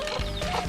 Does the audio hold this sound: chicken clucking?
yes